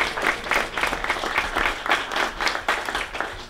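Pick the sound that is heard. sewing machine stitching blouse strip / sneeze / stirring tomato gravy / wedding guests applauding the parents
wedding guests applauding the parents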